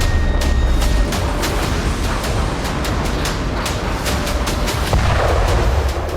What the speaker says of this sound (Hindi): कर्च ब्रिज पर यह विस्फोट सी बेबी ड्रोन से ही किया गया है।